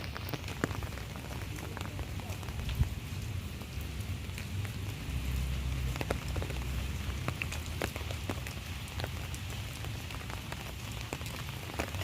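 Steady nighttime rain falls over a dense neighborhood of narrow alleys, a continuous wash of patter with scattered sharper drops ticking close by on hard surfaces, with no voices.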